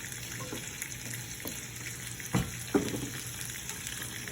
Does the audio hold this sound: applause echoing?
no